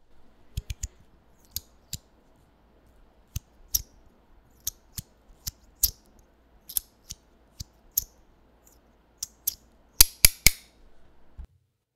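A titanium fidget slider with opposing wavy plates snaps back and forth, giving loud, sharp, piercing clicks in irregular bursts, with a quick cluster of the loudest snaps near the end and no talking.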